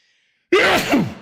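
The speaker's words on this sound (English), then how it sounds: "Going to sneeze" A single loud, close sneeze bursts out after a moment of silence, with a sharp intake followed by a forceful, voiced release.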